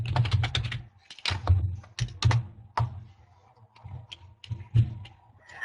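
Fingers type on a computer keyboard in short irregular bursts of crisp clicks and key thumps, close and fairly quiet, with brief pauses between runs.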